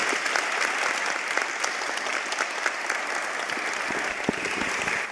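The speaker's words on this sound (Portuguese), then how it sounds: "pedir uma salva de palmas para todos os empreendedores" Conference audience applauding the entrepreneurs: dense, steady clapping from a large crowd that holds evenly for the whole stretch, with no voices on top.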